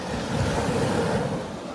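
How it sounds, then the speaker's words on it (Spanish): Ocean waves wash up on a beach in a steady loud surf roar with wind rushing over the microphone, no voices. "Ahí viene el agua, viene el agua."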